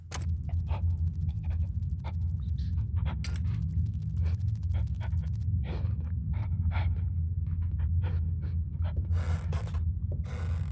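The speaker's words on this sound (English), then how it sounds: "Someone's heavy breathing behind the door." Someone breathes heavily behind a door in the horror game Penumbra Overture, a faint, steady panting with soft clicks and thuds over a low ambient drone, heard alone.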